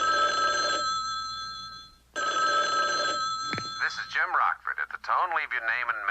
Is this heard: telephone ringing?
yes